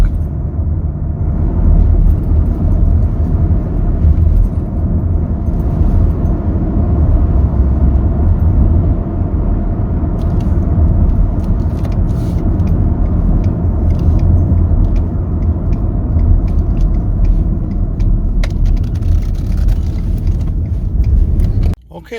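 A 2019 Ford F150 XL regular cab pickup on a test drive, heard from the cabin as a steady, loud, low road and engine rumble that holds constant throughout.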